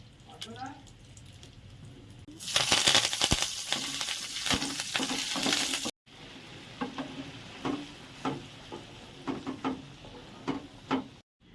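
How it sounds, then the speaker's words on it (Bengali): Mustard seeds, dried chillies and curry leaves sizzle in hot oil as a tempering for dal, starting with a loud sudden hiss that settles into a steady crackle with scattered pops and stirring clinks, while people talk over it. "সর্ষে শুকনো লঙ্কা আর কারিয়া পাতা হচ্ছে ফোড়ন এটা হচ্ছে ডালের জন্য"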